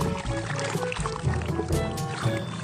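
A muddy toy car is shaken in water to clean it, producing close, repeated sloshing and splashing in quick bursts.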